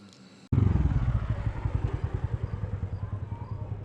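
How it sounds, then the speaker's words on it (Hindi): A tractor engine starts abruptly and chugs with a steady, pulsing rhythm, its loud putter gradually easing off as it continues. "धीरे धीरे ट्रैक्टर की आवाज जंगल में खो गई।"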